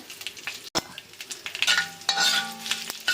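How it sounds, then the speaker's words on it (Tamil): Mustard seeds and curry leaves sizzle and crackle in hot tempering oil for a South Indian chutney, a steady close frying hiss broken by sharp pops, with no talking. "இப்போ நம்ம கடுகு போட்டுக்கலாம், வேப்பிலை"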